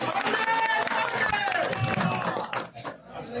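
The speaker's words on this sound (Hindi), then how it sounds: "ताली बजाओ, ताली ताली बजाओ।" A crowd at a Delhi Congress event with an MP claps steadily under loud, ongoing speech and voices, the clapping fading toward the end.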